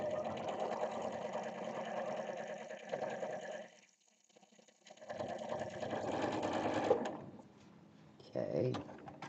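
A domestic sewing machine stitches orange and green quilt blocks together, running in a steady close whir, pausing briefly, then starting again before stopping. Faint handling noises follow, and nobody speaks.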